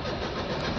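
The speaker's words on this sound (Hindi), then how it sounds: "गाड़ी में सेल्फ मार रहे हैं" Starter motor cranking on a Maruti WagonR K series car with a starting problem, a short, dense, steady whirring grind heard close and alone.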